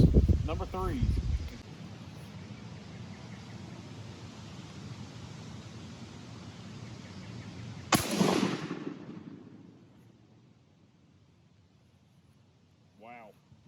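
A shotgun fires a single Winchester Super X number 3 duck load, a loud sharp blast with a trailing rumble that fades over a couple of seconds, set among quiet outdoor background noise, with a voice speaking briefly before the shot.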